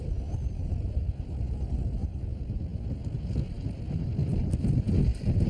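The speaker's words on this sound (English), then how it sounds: "It's always windy when we gather here at Fitzroy, but that doesn't deter us." Strong wind buffets the microphone at Fitzroy on an island gathering spot, a steady low roaring rush with gusts swelling and easing throughout, no voices heard.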